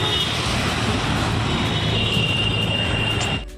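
Steady loud rumble of a metro train running on an elevated track in Kolkata, a continuous roar with a faint high whine, passing close by before it drops off at the end.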